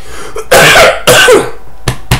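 A few loud, harsh coughs close to the mic: two long hacking bursts, then two short sharp coughs after a brief pause.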